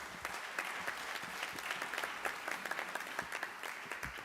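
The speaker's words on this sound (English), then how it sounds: "I think you ought to give yourself a round of applause." Crowd applauding in a school gym at an athletic awards night, dense continuous clapping from many hands, fairly distant and even, with a few sharper nearby claps.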